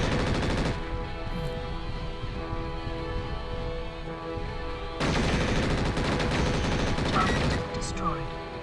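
Weapon fire from MechWarrior 4: Vengeance, a dense, continuous stream of rapid shots at steady loudness, easing briefly before another heavy burst kicks in.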